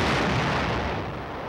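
Artillery guns firing, a loud deep boom with a broad rumbling blast that fades slowly over a second and a half, heard alone.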